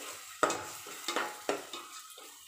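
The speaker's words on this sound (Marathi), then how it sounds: "तोही व्यवस्थित परतून घ्यायचा आहे." Pav bhaji masala sautéing in a pan, a soft sizzle broken by three or four spatula scrapes and taps, quiet and close with no talking.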